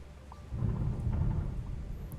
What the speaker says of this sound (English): Ooh, that's a storm